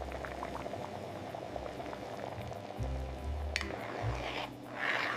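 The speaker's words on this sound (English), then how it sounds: "Straining in our fresh tamarind juice." Fresh tamarind juice poured through a strainer, a steady close liquid trickle and bubbling with a few louder gushes and splashes toward the end, no talking.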